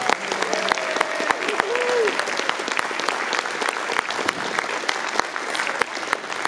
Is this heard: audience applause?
yes